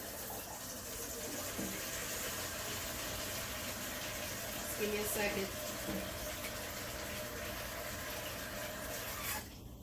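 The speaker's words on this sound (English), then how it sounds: "I'm going to pour just a little bit more hot water in" Hot water poured into a water bath canner for canning apples gives a continuous, steady gush of liquid, with a person briefly speaking over it.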